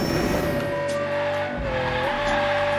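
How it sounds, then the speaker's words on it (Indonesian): Engine roaring steadily in Hot Wheels Unleashed, a Bone Shaker car, a loud sustained tone that sweeps slightly in pitch, with brief tire-squeal-like swishes on top and no talking. "Keren juga suara mesinnya."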